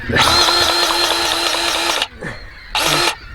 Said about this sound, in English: Grease gun is some good, isn't he? Oh man, fast.